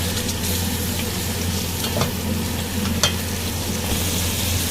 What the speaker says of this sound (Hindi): इसको अगेन हम दही के साथ भी अच्छी तरह से भूनेंगे